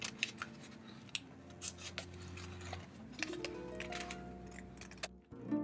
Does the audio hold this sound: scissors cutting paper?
yes